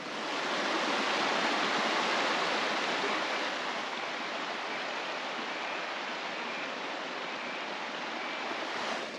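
Water rushes steadily along Big Crystal Creek, a dense, even broadband flow that stays close and fairly loud for the whole stretch, with no voices.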